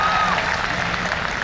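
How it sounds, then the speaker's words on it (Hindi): Audience at a live comedy show in Kota breaks into a short burst of dense, loud applause and crowd noise. "तो एयरपोर्ट बनना चाहिए तो एक बार जोरदार तालियां बजा दो आप।"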